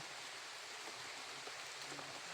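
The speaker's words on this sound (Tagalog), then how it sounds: "Umulan na tol." Rain falls steadily onto banana leaves, a faint, even hiss with scattered drops and no voices.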